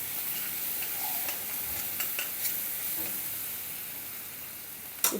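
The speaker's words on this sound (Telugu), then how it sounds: "బాగా కలిపెట్టి" Onion chili masala with garlic and big onion stirred in a pan, a faint soft sizzle with occasional light scrapes and a sharper clink near the end.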